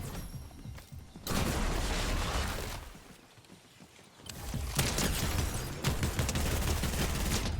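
An MK-Alpha assault rifle in Fortnite fires two sustained bursts of rapid automatic shots, close and loud, separated by a brief quieter gap.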